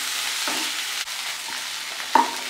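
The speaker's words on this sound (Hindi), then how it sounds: "अब नमक को भी अच्छे से इन सब्जियों के साथ मिक्स कर लेंगे।" Vegetables cooking in a pan are stirred as salt is mixed in, giving a soft frying sizzle with a few scraping stirs and one sharp clink of utensil on pan toward the end.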